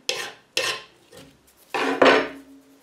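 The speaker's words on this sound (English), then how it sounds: "I think we are ready to use some sandpaper." Very fine metal sandpaper scraping over a metal pin tumbler plug, four or five distinct rasping strokes, each sharp at the start and fading, close and clear with no talking.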